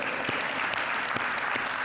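Steady audience applause at a speech during an ICMA presidential induction, many hands clapping at once, sustained and fairly loud throughout.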